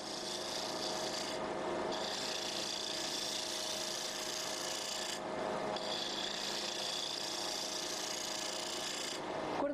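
A woodturning tool gently smooths a spinning wooden piece on a lathe, giving a steady, close rasping scrape that runs almost unbroken over a faint mains hum.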